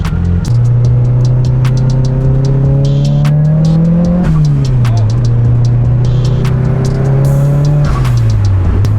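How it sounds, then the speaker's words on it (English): A Nissan S14 fitted with a new boost controller drives hard, its engine loud and close, holding a steady drone that climbs in pitch through the gears, with clear drops at each shift and tire noise underneath. "Now you know what we're going to do, we're going to go drive it again."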